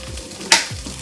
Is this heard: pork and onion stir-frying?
yes